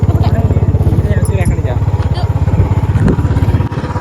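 Two motorbikes ride along nearby, their steady engines pulsing loudly under people talking.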